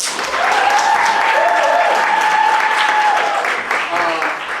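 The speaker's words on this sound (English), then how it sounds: "Let's give a round of applause for our panel." An audience at a poets laureate panel claps for the panelists, producing an even, continuous wash of applause that holds steady from start to finish and fades slightly at the very end.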